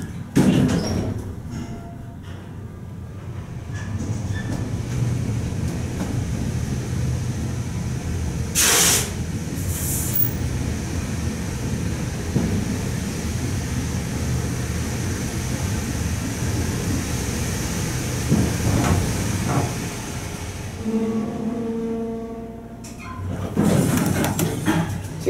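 A Montgomery traction elevator runs in the Galleria Dallas parking garage, giving a steady low hum and rushing drone for most of the ride, with brief sharp door or mechanical noises partway through and near the end.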